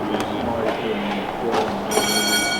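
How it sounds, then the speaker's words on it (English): A push-pull train passes at the National Railway Museum in York, a low rumble with clattering and a few metallic clicks, with a high whine rising near the end, moderately distant, and people talk faintly in the background. "Now that was the push-pull train back again"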